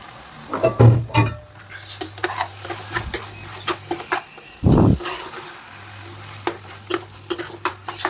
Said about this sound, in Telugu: ఇందులో వేసుకుని శుభ్రంగా కలుపుకోవాలి